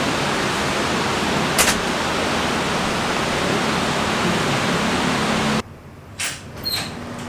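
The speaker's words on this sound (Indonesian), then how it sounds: "hujannya benar-benar lumayan deras hari ini, men" Heavy rain pours down in a steady, loud, dense hiss that cuts off abruptly near the end, leaving a quieter space with a few faint knocks.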